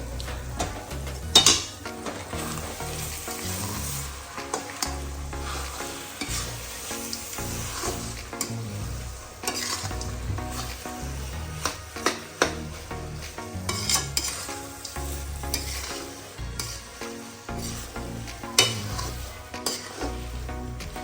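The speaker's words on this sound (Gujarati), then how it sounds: "હવે આપણે એડ કરીશું કાજુ બદામ દ્રાક્ષ. હવે મિક્સ કરી દઈશું" Bottle gourd halwa with cashews, almonds and raisins being stirred in a pan, a steady close scraping and sizzle with occasional clinks of the spoon against metal, carrying on over the full length with no voices.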